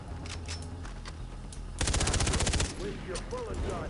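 A rapid burst of automatic gunfire in Far Cry 3, a loud tight rattle of shots lasting under a second, with scattered single shots and game ambience around it and someone talking.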